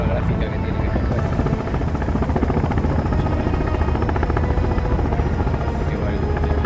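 Helicopter in the video game Sons of the Forest flying toward an island, a loud, close, continuous rotor thump and engine drone that holds steady throughout, with a voice talking over it.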